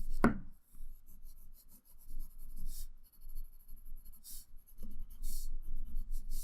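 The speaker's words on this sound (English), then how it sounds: "Then I'll add in some more shading and detailing, and I'll also erase away these guidelines." A pencil draws, shades and erases on paper while a nose is being drawn, giving close, soft scratchy rubbing strokes in short bursts, quiet and steady.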